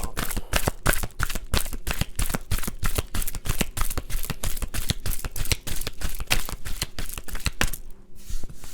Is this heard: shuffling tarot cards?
yes